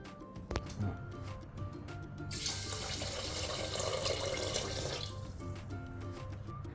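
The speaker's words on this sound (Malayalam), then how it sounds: "ഞാനിവിടെ ഒന്നര കപ്പ് വെള്ളമാണ് ഒഴിച്ചു കൊടുക്കുന്നത്" One and a half cups of water pour from a cup onto raw rice in a pressure cooker for curd rice, a soft splashing stream lasting about three seconds amid quiet kitchen clinks.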